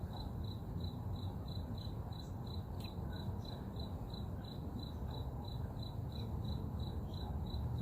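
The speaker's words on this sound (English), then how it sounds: "Hear crickets, can you hear it?" Crickets chirp at night in May, a steady high pulsing trill repeating several times a second, moderately faint and continuous over a soft background hiss, with no voices.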